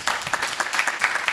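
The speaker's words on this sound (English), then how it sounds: "A round of applause." Audience applause at a live startup pitch event, steady crowd clapping sustained throughout with no speech over it.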